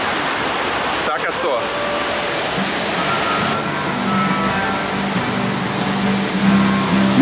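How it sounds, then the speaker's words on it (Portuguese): The standing river-surfing wave on the Eisbach in Munich's English Garden rushes loudly and continuously, a broad roar of churning water that fills the scene while someone briefly speaks over it. "Munique também é a cidade das ondas, só que nos rios."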